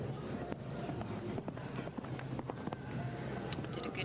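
Hooves of a show jumping horse strike the course at a CCIO4* eventing Nations Cup in Strzegom, Poland, a quick irregular clip-clop over steady low outdoor background noise, with no talk.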